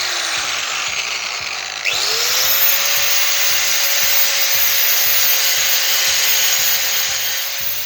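An angle grinder spins up with a sharp rising whine, then grinds steadily and loudly on the rivets of a Vespa TX200 scooter engine, leveling them flush in a continuous metallic buzz with no talk.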